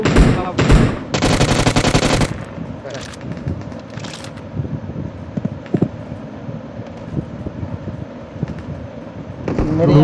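Bots fire guns in the mobile battle-royale game Battlegrounds Mobile: loud bursts of rapid automatic gunfire open the clip, then scattered single shots and clatter follow over game ambience, with more bursts near the end.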